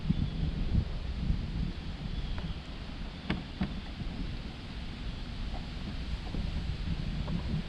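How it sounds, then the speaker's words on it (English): Wind gusts across Lake Lanier during bass fishing in bad weather, a steady low rumble buffeting the microphone, with a few faint knocks and rustles on top and no talking. "The wind is"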